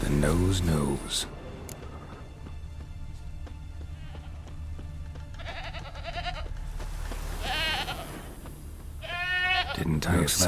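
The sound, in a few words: goat bleating, from the video game Witcher 3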